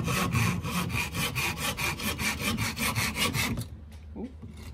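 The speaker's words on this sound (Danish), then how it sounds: "Vi saver hele vejen igennem her på midten" A hand saw cuts straight through a piece of wood along a marked line, loud close strokes in an even back-and-forth rhythm for about four seconds before stopping.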